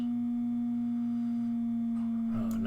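Steady sine tones from a modular synthesizer routed through a simple two-input switch: a strong low hum with a faint higher tone above it, both sustained and even, plus a brief click near the end.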